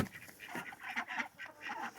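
Several farmyard ducks quacking in repeated bursts at close range, kept outdoors alongside a few chickens, with honking calls overlapping through the whole stretch.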